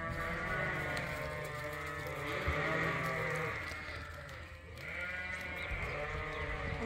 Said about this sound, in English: And these are the February lambs heading out to pasture.